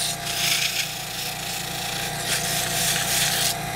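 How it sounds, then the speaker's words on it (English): Fine 400-grit sandpaper rubbing back and forth over a cue shaft ferrule, a steady close scratchy friction with slight surges in intensity, no talking. "sanding that ferrule pretty well with this 400."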